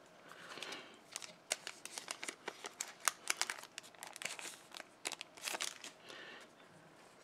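Crinkly cutting and rustling as scissors open a Pokemon trading card pack, a Greninja GX booster, with a rapid run of sharp close-up snips and crackles of foil wrapper, no talking.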